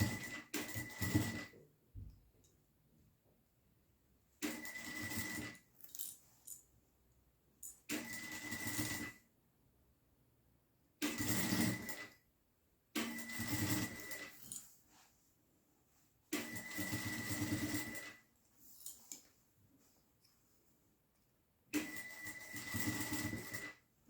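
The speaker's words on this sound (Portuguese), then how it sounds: "faz uma costurinha em toda essa borda" A sewing machine stitches along the edge of a fabric case in bursts of rapid mechanical whirring, about seven runs separated by quiet pauses, close and clear with no talking.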